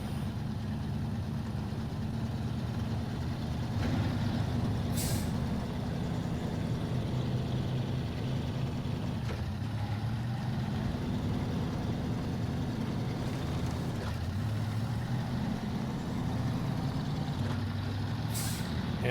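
Steady low truck engine rumble in SnowRunner, idling and crawling under hardcore conditions, with occasional sharp hisses of air brakes standing out over the drone.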